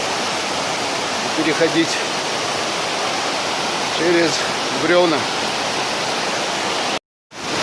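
Nikhaloy waterfalls and a rushing mountain river in Chechnya roar as a steady broadband wash throughout, with someone speaking briefly over it before a short dropout near the end.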